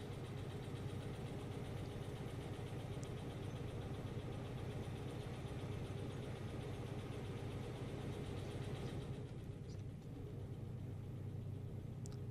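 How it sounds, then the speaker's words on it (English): A video-game locomotive engine drones steadily, a continuous dense low hum heard from outside the cab, changing tone slightly near the end. "I'll stand outside for a minute so you guys can hear the actual locomotion and everything of the engine."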